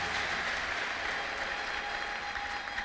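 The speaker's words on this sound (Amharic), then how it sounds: "ለጌታ አጨብጭቡ" Church congregation clapping for the Lord after a testimony, a dense, sustained burst of applause from many hands filling the room without pause.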